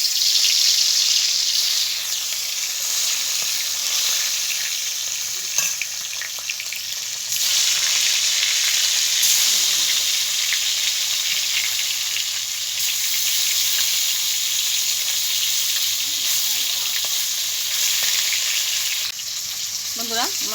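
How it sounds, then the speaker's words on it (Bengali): Silver carp rubbed with salt and turmeric frying in hot oil, a steady loud close sizzle and crackle running unbroken throughout with no talking. "তেল গরম হয়ে গেছে, মাছটা ভেজে নেব।"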